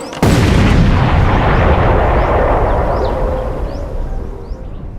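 Landmine destroyed by a controlled explosion in Cambodia, a single loud close blast that erupts sharply and then rumbles and decays over several seconds, with birds chirping faintly afterward.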